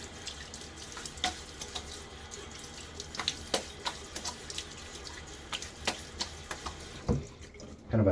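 A bathroom sink tap runs steadily for a rinse during a wet shave, with soft splashing and intermittent clicks and taps of a razor against the basin, close and fairly quiet.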